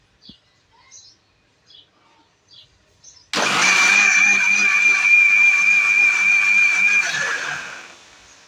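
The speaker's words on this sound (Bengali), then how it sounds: "এখন মুখটা লাগিয়ে ব্লেন্ড করব ভালো করে।" An electric blender whirs loudly and steadily for several seconds, mixing a sweetened pineapple chutney, then cuts off; a few faint bird calls precede it.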